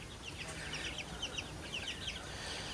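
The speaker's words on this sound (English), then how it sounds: "5 silky chickens in here and 2 native chickens" Several silkie and native chickens cluck and chirp softly in short, scattered bursts over a steady background hiss, with no talking.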